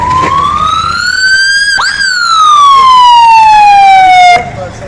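A loud ambulance siren sweeps up and then slowly down in a long wail, close by, with faint background noise and no talking.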